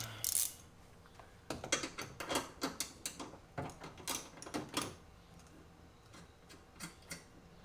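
Ratchet wrench backing out a 10 mm bolt on a Subaru WRX STI during a Cobb SF intake install, a quiet run of rapid metallic clicks in short bursts, close by, with no voices.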